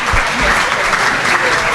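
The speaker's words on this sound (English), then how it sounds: "I think they deserve another round of applause." An audience at a women-in-cybersecurity panel event applauds, a dense, steady wash of clapping throughout, close and loud.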